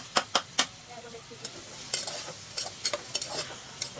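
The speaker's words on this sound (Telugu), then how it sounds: "కొంచెం ఆయిల్ కాగాక ఉల్లిపాయలు పచ్చిమిర్చి దాంట్లో వేసేయాలన్నమాట" Onions and green chilies fry in hot oil for a potato curry, a soft sizzle broken by a handful of sharp spoon scrapes against the pan, close and fairly quiet.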